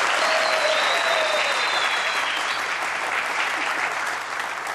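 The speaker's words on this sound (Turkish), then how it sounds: "Onlara kocaman bir alkış gelsin mi?" Warm audience applause for a couple being welcomed on stage, dense and continuous clapping at close range that holds steady and eases slightly toward the end, with no speech over it.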